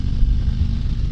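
A 2023 Harley-Davidson Road Glide Special rumbles through its exhaust while riding, a deep, loud, steady low-pitched throb with slight pulsing.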